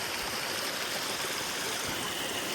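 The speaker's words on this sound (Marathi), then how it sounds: "नदीला ओढ बघा किती आहे, भरपूर." A swollen river after heavy rain flows strongly, giving a steady broadband rush of water that stays even and close throughout the short stretch, with no talking.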